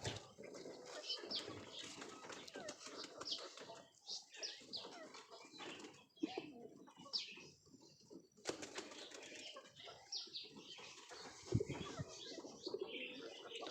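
Racing pigeons inside their loft, including a red checker, flapping wings and cooing softly at close range through a quiet, busy stretch with no talking.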